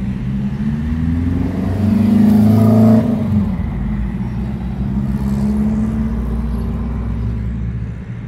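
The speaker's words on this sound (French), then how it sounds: "Je vous filme les R5 qui roulent." Renault R5 Turbo cars drive past in a town centre in Gérardmer, a steady engine rumble that swells louder around the middle as one passes close, then settles back to a continuous drone.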